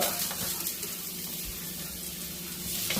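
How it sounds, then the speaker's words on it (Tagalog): Garlic sautéing in a pan for chicken stew, a steady broadband sizzle with some scraping and clatter, fairly loud and continuous with no talking. "Igisa tayo ng bawang."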